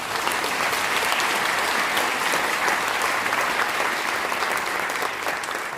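A congregation claps together in a sustained, dense round of applause at a university's 125th anniversary thanksgiving worship service in a hall, steady throughout before easing slightly at the end.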